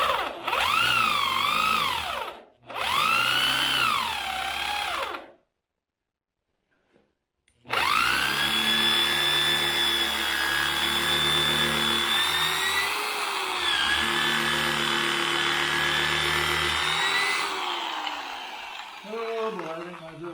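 A power drill with a dull bit bores into hardwood in bursts, whining and grinding loudly up close, with short pauses between attempts and a longer strained run that rises in pitch.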